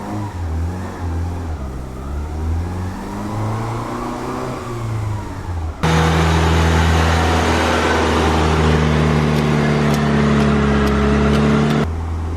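A tuned Honda Civic running on a Hondata setup drives with steady mid-pitched engine drone and rising revs, then a sudden louder, harsher stretch of hard acceleration before cutting back, close and without talk.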